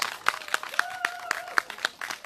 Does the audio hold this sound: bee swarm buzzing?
no